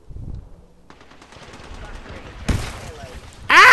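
Gunfire in the video game Apex Legends, rapid automatic shots building from faint and distant to a loud close burst at the end.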